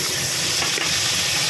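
Pointed gourd (potol) frying in a pan of oil for a mixed vegetable dish, a steady close sizzle and hiss with light stirring throughout, no voices.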